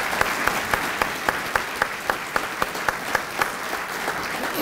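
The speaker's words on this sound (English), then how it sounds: "Let's give all these folks a round of applause" Guests at a university scholarship brunch give a round of applause, a crowd clapping steadily, with one nearby clapper's rhythmic, evenly spaced claps standing out above the rest.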